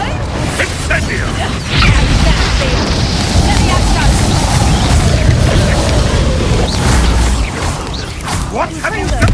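Incendio fire spell cast in Hogwarts Legacy, a loud roaring whoosh with booming impacts and crashing bursts that run steadily for several seconds, with a voice shouting the spell over it.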